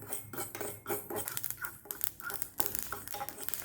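Fenugreek and mustard seeds dry roasting in a small tempering pan give light metallic scrapes and clinks in an uneven rhythm. The sound is close and moderately loud, with no talking.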